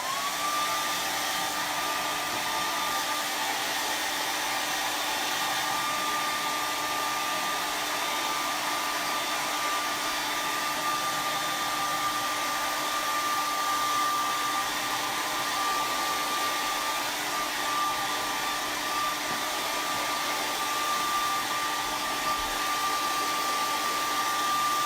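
A hair dryer blows steadily on fresh acrylic paint, a constant loud whirring hum with a faint whine held for the whole stretch, no voices.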